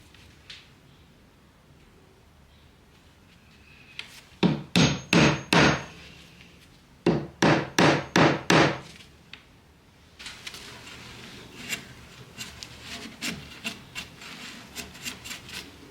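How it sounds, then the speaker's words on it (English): Screws being driven into a wooden table top come as two tight clusters of sharp, rasping bursts, each a quick rhythmic run, followed by quieter scattered scraping and tapping nearby. "I'm now screwing in the screws that hold the top together"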